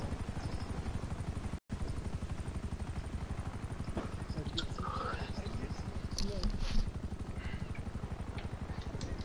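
A helicopter in a video game gives a steady, fast rotor chop that runs throughout at moderate loudness beneath game noise and sporadic voices.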